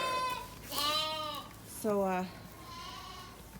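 Dairy sheep bleat on a homestead farm: two or three drawn-out, wavering bleats close to the microphone, with a brief spoken word at the start.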